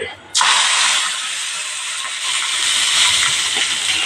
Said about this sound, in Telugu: ఇలా ఫ్రై అవుతుంది చూడండి